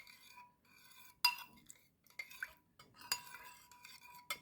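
Chicken marinade with sugar and red chili pepper being mixed in a bowl, giving soft scraping stirs with a few sharp clinks of a utensil against the dish, close and fairly quiet.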